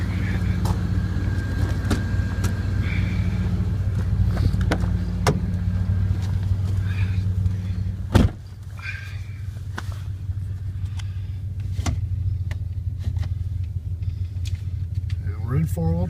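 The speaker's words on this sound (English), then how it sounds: "We're in four-wheel drive here, so test out the four-wheel drive as well." A 1999 Dodge Ram 1500 pickup with the 5.2 engine drives in four-wheel drive in second gear, giving a constant low engine and drivetrain rumble from inside the cab, with occasional clicks and knocks and a voice speaking over it.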